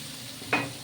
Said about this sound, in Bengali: মাছটা দিয়ে একটু ভাজা ভাজা করব